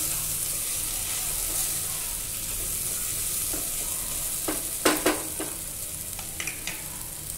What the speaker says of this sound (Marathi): आता हे छान मिक्स करायचं आहे।